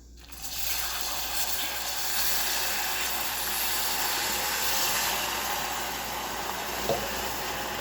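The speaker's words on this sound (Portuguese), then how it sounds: "com cuidado, a gente vai acrescentar a água" Water is added to hot melted sugar caramel for a banoffee dessert, setting off a loud, continuous hiss of sizzling steam that starts abruptly and holds steady for several seconds.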